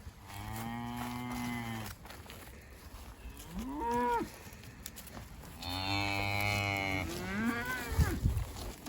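Loud, drawn-out cattle moos on a grazing pasture shared with sheep, several calls in a row with shorter lowing between them, close by.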